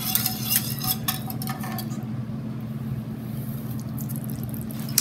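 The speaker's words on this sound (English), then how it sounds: "And you whisk as you add." Cornmeal being whisked into water in a pot for Romanian mamaliga, with steady metallic clinks and scraping against the pot in quick bursts early on, then a softer continuous swish under a low steady hum.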